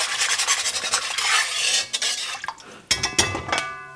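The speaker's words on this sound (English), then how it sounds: "the first thing we'll do is whisk, just to get everything nice and" Gravy whisked in a pot for a deep-fried turkey meal, with rapid rhythmic metallic scraping and clinking of the whisk against the pot, close and fairly loud, then a burst of sharper rattling strokes.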